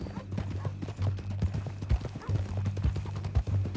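Horse hooves clip-clop at a steady walking rhythm in the Red Dead Redemption 2 video game, close and fairly loud, with a low droning background tone and no talk.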